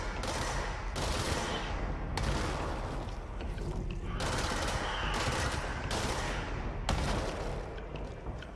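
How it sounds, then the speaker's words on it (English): Bursts of machine gun fire from the video game Control come in several distinct volleys with short pauses between them, fairly faint and mixed with in-game mechanical noises. "Oh, it's a machine gun."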